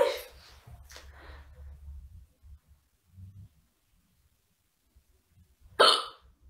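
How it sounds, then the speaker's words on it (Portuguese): A woman with hiccups gives a couple of sharp, close hiccups spaced several seconds apart, with low breathy sounds between them and no talking. "eu tô com soluço"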